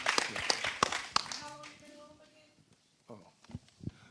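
An audience at a federally-impacted community summit gives a short burst of scattered claps that quickly thin out, with a few isolated claps and taps afterward.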